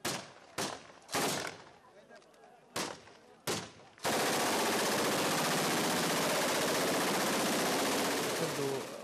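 Celebratory gunfire shot into the air in Samawah, Iraq: a few sharp separate shots ring out, then a long, dense, continuous burst of automatic fire roars on, loud and close, with no talking.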